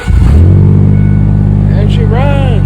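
A 2002 Ford F150 pickup engine cranks briefly and catches, then settles into a steady, loud idle with a deep rumble close by, while a voice speaks over it near the end.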